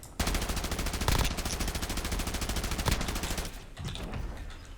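Continuous rapid automatic gunfire in a video game, loud and dense, running almost the whole time with a brief lull near the end.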